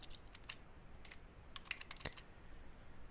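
Password being typed on a computer keyboard: a quiet run of irregular key clicks and taps, with no voice.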